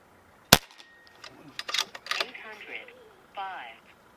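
Niksan Escalade T .22 caliber air rifle firing a pellet at a range: one sharp, loud crack near the start, followed by talk and background noise.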